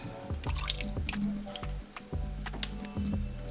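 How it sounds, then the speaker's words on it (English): Juice from soaking dried peppers for birria is poured into a blender cup, a close, wet, splashy pour with drips and gurgles running the whole time. "Pour it in my blender cup."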